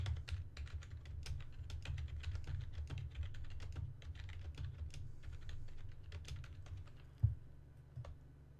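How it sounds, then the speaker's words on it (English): Fast, irregular clicking of keys on a mechanical keyboard sitting just beneath a Blue Yeti USB condenser microphone, heard close and alone over a low steady hum, ending with one sharper louder clack. "I'm just gonna play a few keys on my mechanical keyboard."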